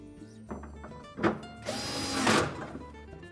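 A screw is driven into a Whirlpool refrigerator part during a defrost heater replacement, with a few light clicks and a thunk, then a short, close whir of a power driver.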